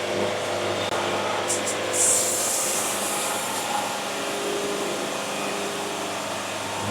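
Sawmill cutting boards and throwing sawdust, a steady loud mechanical roar and blade hiss that runs the whole time, with a brief sharper high burst early on.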